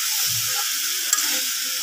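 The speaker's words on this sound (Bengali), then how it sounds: "এখন মিশিয়ে দিচ্ছি, মেরেচুরে একটু মিশিয়ে দিই আমার মশলাগুলো।" Spices, mixed vegetables and dried fish being stirred in a pan, a steady close frying sizzle with soft scraping strokes and a couple of brief clinks, no talk.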